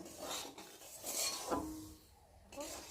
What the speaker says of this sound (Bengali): ময়দা দিয়ে সুজিটা ভালো করে ভেজে নিয়েছি